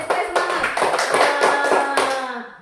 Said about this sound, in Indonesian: Tepuk tangan dulu untuk diri sendiri supaya semangat